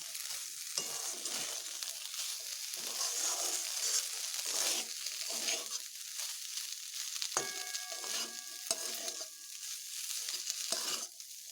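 Figs being fried and stirred in a pan, a loud ongoing sizzle broken by repeated scraping strokes of a spatula, with a brief ringing metallic clang partway through.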